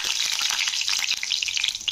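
Dried red chillies and nigella seeds frying in hot oil over a low flame, making a bright, crackling sizzle with many rapid small pops, close and fairly loud, with no one speaking.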